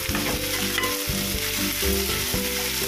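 Onion, tomato and potato fry in a pan for veg poha, giving a loud, continuous close sizzle with stirring, alongside some steady tonal background sound.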